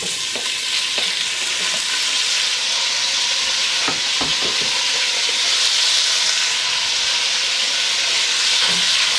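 Beef browns in a hot pot over medium-high heat for brisket chili, giving a loud, steady sizzle and hiss throughout, with a few faint clinks of stirring and no talk.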